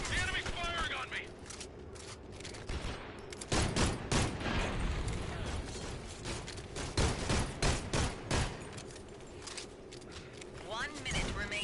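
Enemy gunfire in a video game comes as bursts of sharp shots mixed with clanking, under ongoing talk.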